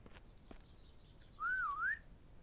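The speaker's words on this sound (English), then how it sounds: "You may go, Cage, why are you whistling?" In the video game SurrounDead, a character gives one short, clear whistle that rises and dips in pitch, heard alone over a quiet background.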